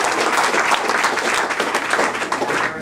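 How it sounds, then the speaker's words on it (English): Enthusiastic audience applause at a New Jersey political straw poll event, a loud dense wave of clapping lasting throughout, with faint voices mixed in. "And you can applaud on that one."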